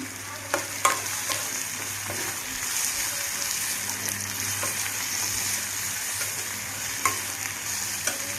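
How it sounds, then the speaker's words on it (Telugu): Onions fry in a pan with a steady close sizzle, punctuated by a few clicks of stirring, fairly quiet and with no talking. "ఇంకా కొంచెం వేగాలండి ఉల్లిపాయలు ఉల్లిపాయలు అయితే వేగినాయి కదండి"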